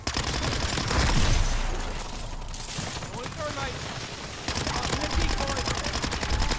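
Sustained automatic SMG fire in MW3 Zombies, rapid bursts of shots rattling almost nonstop with a brief lull in the middle, close and loud, mixed with game noise.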